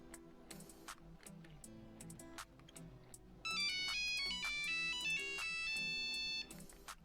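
Polyphonic ringtone from a Nokia 6310i mobile phone played through its small built-in speaker at full volume, a bright melodic tune that grows louder in the middle and carries on for several seconds.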